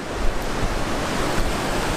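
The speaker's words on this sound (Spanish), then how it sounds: "nos dio un poco de miedo porque las olas están un poquito grandes como pueden ver" Large ocean waves break at a surf spot in Bali, a loud, continuous roar of surf with steady wash and wind noise, no voices.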